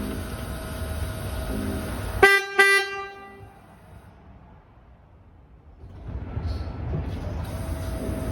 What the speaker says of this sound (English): here's a quick before and after of the two horns.